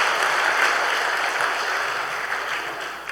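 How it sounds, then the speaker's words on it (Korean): A church congregation applauds during a Sunday service, steady even clapping from the assembled worshippers that gradually thins toward the end. "우리 박수를 한번 쳐주시죠."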